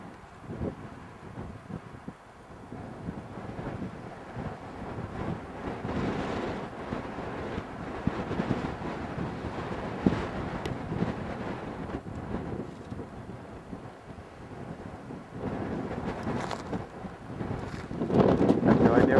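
Strong wind blowing outdoors in the Utah desert near abandoned mines, roaring and buffeting against the microphone in long gusts that swell louder toward the end, with occasional voices underneath.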